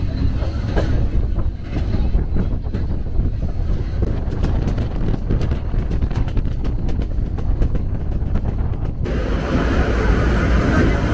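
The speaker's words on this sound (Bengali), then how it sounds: "কিশোরগঞ্জ এক্সপ্রেস এই মুহূর্তে ছেড়ে দিল কুলিয়াচর রেলওয়ে স্টেশন" The Kishoreganj Express pulls out of Kuliarchar railway station with a loud, continuous rumble and rattle of wheels and carriages. Wind buffets the microphone steadily, and the roar shifts tone near the end.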